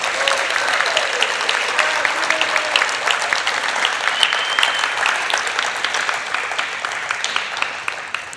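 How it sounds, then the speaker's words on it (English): Sustained audience applause for Grad Slam finalists at an afternoon final, dense steady clapping from a large crowd filling the whole stretch at even loudness. "Let's give them one more round of applause."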